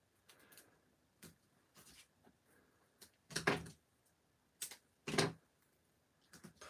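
Scissors cutting pattern paper for a scrapbook layout make a handful of crisp, quiet snips at irregular intervals, two of them sharper and louder, in a still room.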